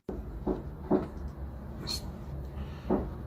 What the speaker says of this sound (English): So he hears knocking.